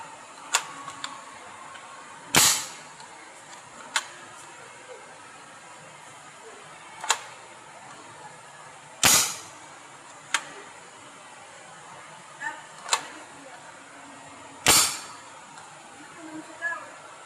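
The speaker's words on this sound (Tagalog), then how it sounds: "So ito yung tunog pag walang bala." Dry-fire clicks from an 8mm steel ball gun fired without ammunition: several sharp, isolated snaps spaced a few seconds apart, with softer ticks in between, over a quiet room background.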